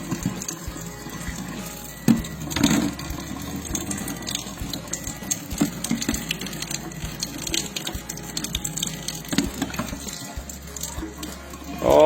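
Steady water runs and splashes over a greasy kitchen exhaust filter held under a tap, a continuous gushing wash with occasional clunks and no talking.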